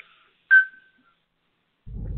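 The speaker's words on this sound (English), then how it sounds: "He keeps whistling at my door." A man whistles at a door: a single short, bright whistled note rings out alone in silence, then a low rumble comes in near the end.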